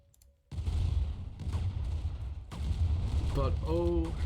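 Video-game sniper and battle gunfire, loud booming shots and rumbling bursts over a dense noisy backdrop, with a voice talking throughout.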